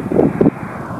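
Strong wind buffets the microphone near tall buildings in Umuarama, Brazil: two heavy low gusts in the first half second, then a steadier, lighter rumble.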